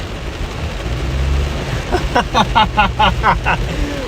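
Heavy rain pours during a Midwest thunderstorm with tornado threat, a steady broadband roar with low rumble underneath, and voices or a patterned tone rising over it toward the end.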